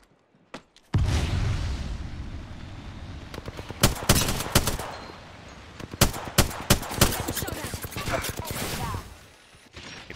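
Sustained LMG machine gun fire from Apex Legends in an arena match, loud and close, with rapid rattling bursts and several sharp louder shots across most of the stretch after a brief quiet start.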